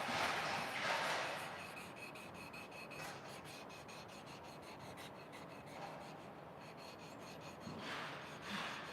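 Close, quiet rhythmic rubbing of 1000-grit sandpaper worked by hand across a wooden desk top, steady back-and-forth strokes with light pressure.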